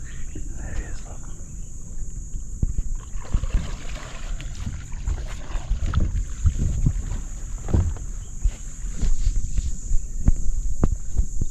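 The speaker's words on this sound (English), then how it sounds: "he's got a little canoe here" A small dugout canoe on a Gambian river rocks and moves through the water with soft knocks, splashes and paddle strokes under a steady high hiss, while people talk nearby.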